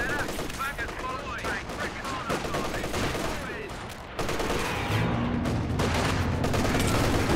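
Artillery volley and scattered gunfire in a Company of Heroes 2 battle, sustained crackling shots and booms throughout with someone talking over the din.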